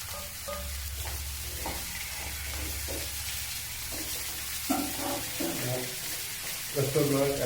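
Potato pieces sizzle in hot oil with popped mustard seeds while being stirred in a pan, a steady frying hiss broken by scraping stirs, with a voice talking over it.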